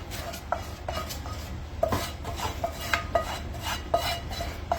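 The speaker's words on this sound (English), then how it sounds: "I'll mix in the salt," A utensil stirs salt and spice paste through mango pickle (thokku) in a pot, giving close, repeated metal clinks and scrapes in an irregular rhythm over a low background.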